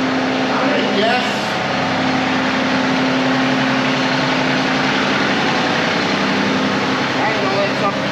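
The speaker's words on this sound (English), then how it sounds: "Tractor's warming up." A John Deere 2038R compact tractor idles steadily in the snow while warming up, a constant low engine hum holding even throughout, with a person talking over it.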